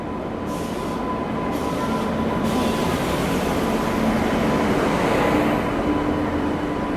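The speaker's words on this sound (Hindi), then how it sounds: "गाज़ियाबाद शेड का WAP 7 लोकोमोटिव लेके आ रहा है LHB ऊंचाहार एक्सप्रेस को।" A Ghaziabad-shed WAP 7 electric locomotive, Kavach-fitted, hauling the LHB Unchahar Express with its generator car running; a steady, loud rumble of rolling wheels and a train passing close by at a station.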